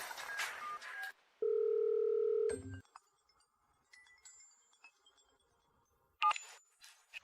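A telephone dial tone sounds as someone places a call: a steady, clean electronic hum held for about a second, followed by clicks, faint beeps and a short burst of clatter at the end.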